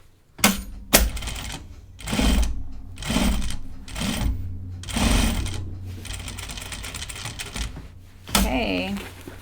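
A sewing machine stitches backpack binding in bursts, loud rapid mechanical chatter running for a second or two at a time with short pauses and handling noises between, up close, and a voice speaks near the end.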